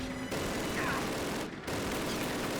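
MG42 machine gun fire in the Call of Duty game, assault on the Reichstag in Berlin: a dense, continuous roar of rapid gunfire and battle noise with a couple of brief drops, no talk.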